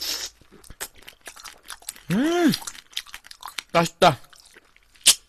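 Soy-marinated shrimp being crunched and chewed close up, with a few sharp crunchy bites and chewing bursts amid brief spoken remarks.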